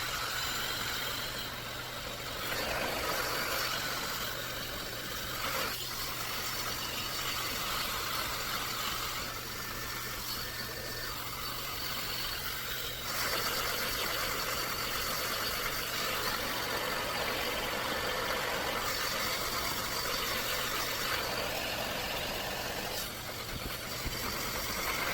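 A hair dryer blows steadily on fine hair while the roots are flipped and dried down the shaft, a constant broadband whoosh with a low hum running alone throughout.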